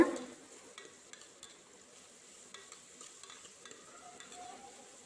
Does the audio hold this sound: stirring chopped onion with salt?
yes